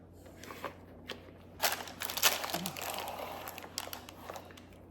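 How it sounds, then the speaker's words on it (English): Parchment paper crinkles and rustles as it is pressed into a loaf pan, a few soft bursts of crackling close up, loudest in the middle, with quiet pauses between. "Then I just lined my loaf pan with parchment paper, and if you know anything about parchment paper, it's not very forgiving."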